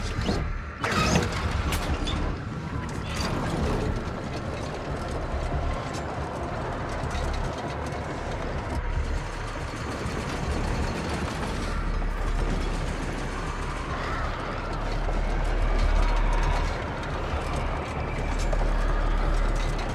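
Elevator machinery rumbles and clanks in a spooky video game, a steady low mechanical drone with scattered rattles and clicks, moderately loud with no talk.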